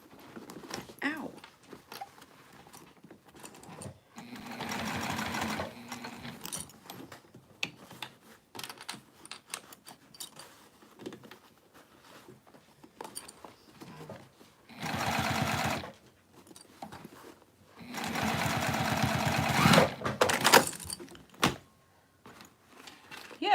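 Sewing machine stitching a bowler bag, heard in several bursts of rapid mechanical whirring separated by quieter handling sounds.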